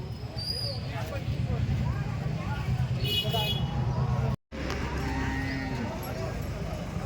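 Dairy cows at a crowded cow market in Malegaon give low moos and lowing, with voices chattering and market noise throughout and a brief dropout midway.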